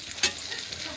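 Vegetables fry and get stirred in oil left from frying prawns, a soft steady sizzle with one brief scraping stir.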